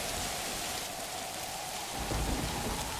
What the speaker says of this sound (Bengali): বৃষ্টিটা একটা পচা